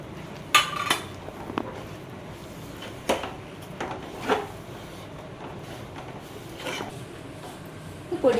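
Rice flour being stirred and toasted in a pan over a low flame, with scattered scrapes and clinks of a spoon against the metal at irregular intervals over a quiet background.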